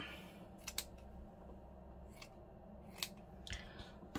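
Scissors snip through gauzy, cheesecloth-like fabric in several quiet, scattered cuts, each a brief crisp crunch over a faint background, close by.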